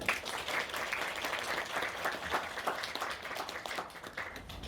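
Audience at the Kobieta z Pasją 2018 women's gala clapping steadily, a dense, sustained wash of applause from a crowded hall, with no talking over it.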